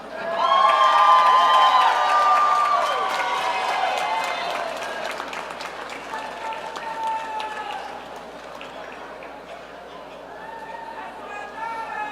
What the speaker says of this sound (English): another standing applause for our MSW grads